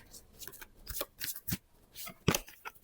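Tarot cards shuffled and drawn by hand, a string of quick papery riffs, flicks and soft slaps spread across the moment, close and fairly quiet with no voices over them.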